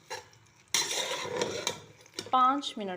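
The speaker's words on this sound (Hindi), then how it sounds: "और हम इसमें डाल देंगे भिंडी, इसको हम फ्राई करेंगे" Okra frying in a pan for masala bhindi, a loud sizzling hiss that starts abruptly and holds steady, followed by a voice speaking over it.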